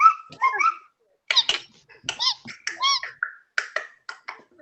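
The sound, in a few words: person imitating a cricket chirping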